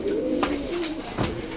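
Pet pigeons coo close by in soft, low, rolling calls that repeat several times over a brief stretch, with faint background noise and no speech.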